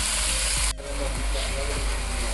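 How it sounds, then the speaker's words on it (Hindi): Boneless chicken fries in a pan with a loud, dense, continuous sizzle, broken by a few low scrapes as it is turned. "तो अब मैं इसको अच्छे से भून रही हूँ।"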